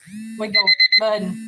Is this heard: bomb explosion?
no